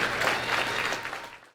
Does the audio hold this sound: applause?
yes